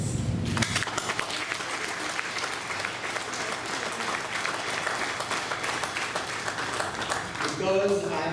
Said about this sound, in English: I want you to all applaud yourselves